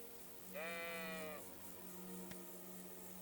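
A sheep in Kingdom Come Deliverance II gives a single clear bleat lasting under a second against a steady low background hum, with no talk.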